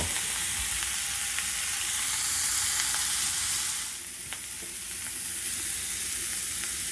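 Morel mushrooms frying in a pan as butter goes in, a dense steady sizzle that dips slightly partway through, with faint stirring clicks and no speech.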